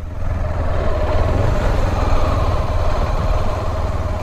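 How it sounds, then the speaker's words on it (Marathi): A motorcycle engine running on the sand at Kalamb Beach, a loud steady close rumble with a slight throb that holds throughout without talk. "समुद्रावरती गाडी चालवते ती."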